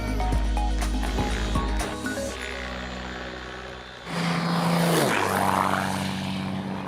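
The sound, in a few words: Align T-Rex 550 RC helicopter flying at 1,900 RPM head speed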